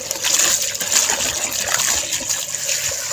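Spinach being washed under an open running tap in a home kitchen, with a steady close trickle and splash of water over the leaves that continues without a break.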